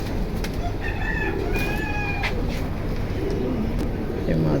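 Pigeons in a pigeon collection coo softly over a constant noisy background hum, with faint chirps and bird calls scattered through.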